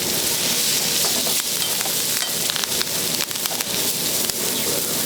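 Steak searing in a pan with melting butter, rosemary and thyme, a loud continuous sizzle and crackle with no breaks, close up.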